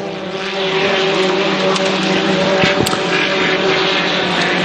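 A 1.5 litre class racing boat engine roars past during a race on the water, a loud steady drone with a sustained harmonic whine that swells slightly as it goes by.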